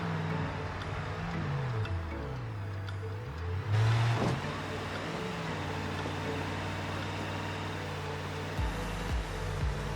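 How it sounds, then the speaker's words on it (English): Truck engine in the BeamNG driving game crawling slowly in low range over rough ground, low idling drone rising and falling in pitch, a brief rev and a clunk near the middle, no voices. "I'm going to just change the truck to low range to make sure we can clear these."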